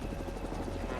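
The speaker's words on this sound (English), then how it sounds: "I hear a heli." A heavy lift helicopter flies over a logging site in a community forest, its rotor thudding in a steady, fairly loud beat throughout, with no talk.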